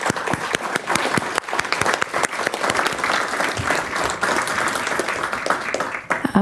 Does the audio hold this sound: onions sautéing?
no